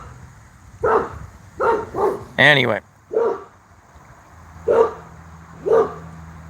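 Small dog named Captain Fantastic barking in sharp separate bursts, one yelping whine among them, reacting to landscaper noise outdoors in the sun; a low hum runs underneath and a voice speaks a word.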